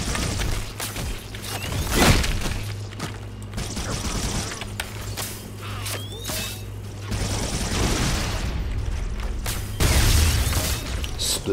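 Explosions erupt amid gunfire and mechanical clatter in Halo: Combat Evolved Anniversary, with heavier booms near the two-second and ten-second marks over continuous loud battle noise.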